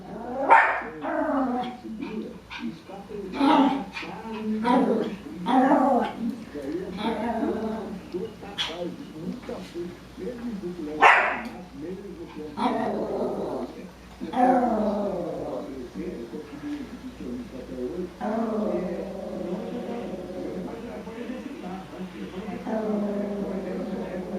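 A dog growls and barks at its own reflection in a mirror in repeated rough bursts, some whining, while a person keeps talking to it over the noise.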